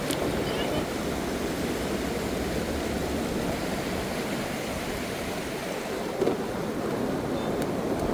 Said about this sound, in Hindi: जब आपके पीछे बहुत ही ठंडा पानी बह रहा हो